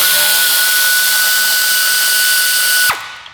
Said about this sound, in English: I'm going to use an air ratchet